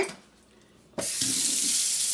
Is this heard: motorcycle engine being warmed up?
no